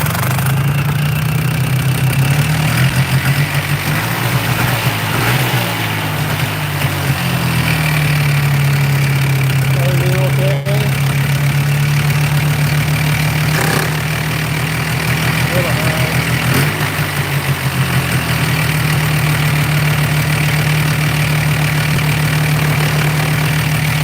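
ATV four-wheeler engine idling steadily after start-up, a loud continuous low rumble with a slightly high idle that holds evenly throughout, with brief faint clicks and no voices.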